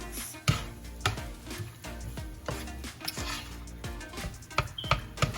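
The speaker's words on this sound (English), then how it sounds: "we're going to add in the chopped eggs and the cooked spam, and we're going to give it another good mix" Fried rice being mixed with chopped eggs and cooked spam in a pan, with a steady run of scraping and clinking strokes from a utensil against the metal, moderately close and without talk.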